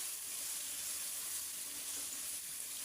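Eggplant frying in a pan, a soft, steady sizzle with a faint hiss spread evenly throughout, no voices over it.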